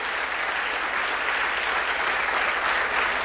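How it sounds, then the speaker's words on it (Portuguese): A church congregation applauds during a Portuguese-language sermon with dense, sustained clapping that fills the room evenly from start to finish, loud and continuous with no pauses. "Aplauda mais uma vez o Senhor Jesus."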